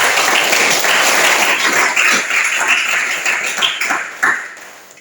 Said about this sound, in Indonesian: Terima kasih Amazing Glory, berikan aplaus.